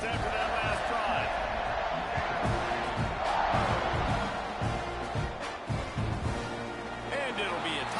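A football stadium crowd roars steadily before a Mississippi State kickoff, a dense, sustained wall of cheering and shouting that swells slightly midway, with a commentator talking over it.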